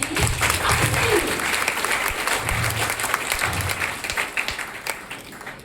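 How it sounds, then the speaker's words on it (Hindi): A group of teachers clap together in a classroom, a steady dense patter of hands that holds for several seconds, with some voices talking under it. "अपने आप के लिए प्राउड फील करके आप लोग जरा ताली बजा देंगे"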